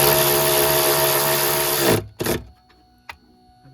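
A failing windscreen wiper motor on a Ford Ka runs with a steady electric whine and buzz, then cuts out sharply, followed by a short burst and a faint click in near silence.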